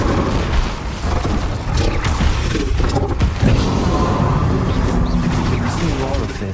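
Incendio fire spell cast in the video game Hogwarts Legacy, a dense, loud, continuous roaring whoosh of flame with booming bursts and crackle throughout, backed by heavy game noise.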